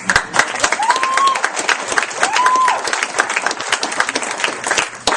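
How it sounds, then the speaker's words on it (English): An audience gives Dale a big round of applause at a weight-loss victory event: dense, steady clapping close up for the whole stretch, with a couple of rising whistles cutting through. "So give Dale a big round of applause."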